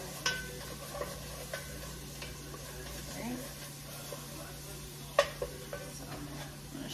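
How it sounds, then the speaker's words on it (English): Faint scraping and stirring inside a pot as paste is mixed into beef stew, with a low steady hum and a few soft clinks of a utensil against the pot; no talking. "Mix it in with everything."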